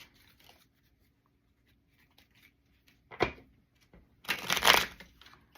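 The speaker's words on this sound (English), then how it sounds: "I'm going to shuffle it anyway." A deck of cards is shuffled during tabletop dungeon-map drawing: a short riffle burst, then a longer, louder shuffling run, otherwise quiet.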